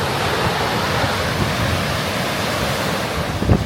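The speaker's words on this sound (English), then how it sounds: "Waves are incredible." Ocean waves crashing against the sheer cliffs at Punta Sur on Isla Mujeres, Mexico, a loud continuous roar of surf with heavy wind buffeting the microphone.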